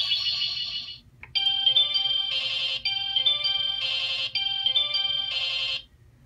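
Sailor Moon Proplica Spiral Heart Moon Rod toy plays a bright electronic chime melody, a short tone followed by a repeating pattern of twinkling synthesized notes lasting several seconds, clear and close with no talking.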